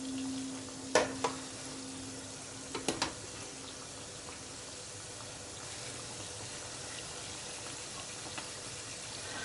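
Dough festivals frying in a pot of hot oil, a soft steady bubbling sizzle with a few brief clinks and knocks near the start.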